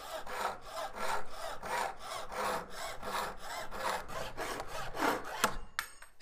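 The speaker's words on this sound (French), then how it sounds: "Dès que vous commencez, vous sciez des deux mains." Fine-bladed hand saw cutting through wood with steady back-and-forth strokes, about a dozen rhythmic rasps close and fairly loud, ending with a brief knock and scrape, no voices.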